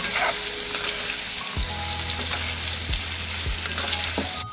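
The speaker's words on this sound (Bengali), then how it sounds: "পেঁপেগুলি এরকম করে হালকা করে ভেজে নিয়েছি" Papaya pieces frying lightly in oil with turmeric, a dense close sizzle broken by several spatula stirs and scrapes across the pan at irregular intervals.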